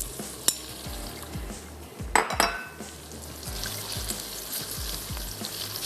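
Thin strips of chicken sizzle and fry steadily in a hot pan, with occasional clinks and stirring scrapes of a utensil, including a louder clatter midway; no one talks.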